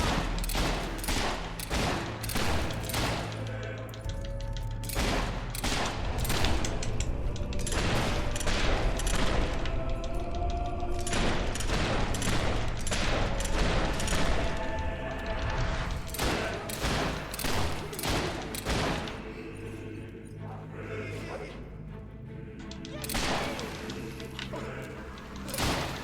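Sustained volleys of gunfire from a gun in Fable 3 during a fight with hobgoblins, dense rapid shots firing almost continuously, loud and near, thinning toward the end with scattered single cracks.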